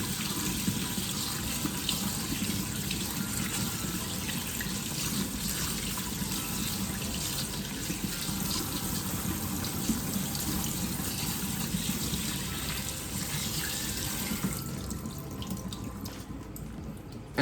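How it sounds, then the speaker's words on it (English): Rice being washed under a running kitchen tap, a steady close hiss and splash of flowing water into a sink that carries on evenly for the whole stretch, then thins out near the end. "Next, wash the rice"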